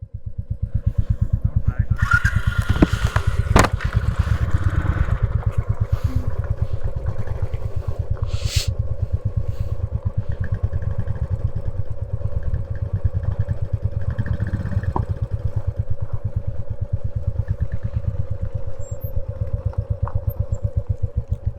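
A Royal Enfield motorcycle climbs uphill in the mountains of Spiti Valley, its single-cylinder engine thumping in a steady, close, loud rhythm with a few clanks, while people talk intermittently over it.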